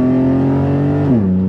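A BMW 635CSi E24 coupe's exhaust rumbles steadily and loudly up close under acceleration, a deep throbbing drone that holds its pitch, then drops in tone near the end.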